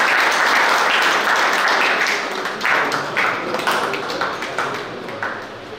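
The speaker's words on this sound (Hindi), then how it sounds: "तालियां" Sustained audience applause at a state-level kickboxing championship in Shrimadhopur, a dense wash of many hands clapping, loud and steady at first, then thinning slightly with scattered individual claps toward the end.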